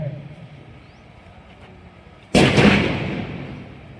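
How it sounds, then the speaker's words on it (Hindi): A sudden loud blast of gunfire rings out during an NCC camp combat drill, cutting in sharply after a quieter stretch and decaying with a rolling echo. "ये युद्ध का माहौल है, इसमें लगातार फायरिंग चल रही है"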